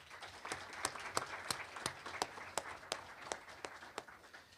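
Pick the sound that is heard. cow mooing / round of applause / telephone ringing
round of applause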